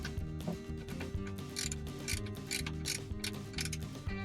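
Ratchet tightening an aluminum plug on the transfer case of a Chevrolet Silverado, GMC Sierra or similar 4x4 SUV, with steady mechanical clicking running the whole time, close and moderately loud, and no talking.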